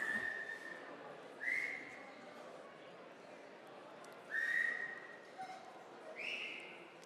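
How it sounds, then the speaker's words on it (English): Three or four sharp, loud finger-style whistles, each a short rising then steady shrill blast, cut through a murmuring crowd at a health care event to hush the room, spaced a few seconds apart over quiet background chatter. "Can you do your whistle?"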